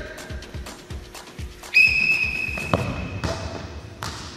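A sharp, shrill referee whistle blast in a dodgeball game cuts in partway through, holding for about a second over rhythmic ball bounces and light background activity.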